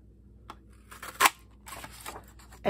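A Creative Memories geometric frame punch cuts through paper with a few short clicks and snaps, including one sharp louder crunch partway through, heard close up with no voice.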